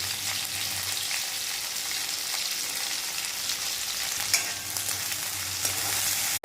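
Chopped onion and asafoetida fry in hot oil in a pan, a steady close sizzle with a few light stirring scrapes, no talking.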